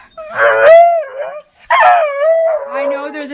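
A dog lets out two long, loud, wavering howls close by, separated by a brief pause, the second trailing into a lower whimpering tone.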